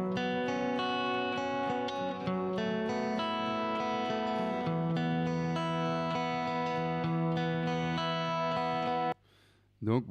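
A Big Sky reverb pedal wash over sustained layered chords, dense shimmering tones holding steady for about nine seconds, then cut off as a voice begins speaking at the end.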